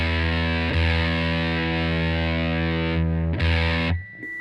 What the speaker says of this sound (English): So then it becomes more of a distortion kind of effect